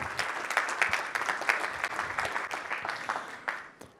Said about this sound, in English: So let's give Jim a big round of applause as well.